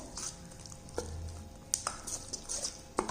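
Spoon stirring tempering through a moist leftover chapati mixture, quiet squishy scrapes and a few light clinks against the bowl, faint and close.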